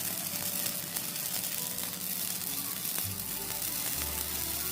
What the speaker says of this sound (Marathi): लगेच राजगिरा फुलायला सुरुवात झाली अगदी हलक्या हाताने हे असं हलवून घ्यायचं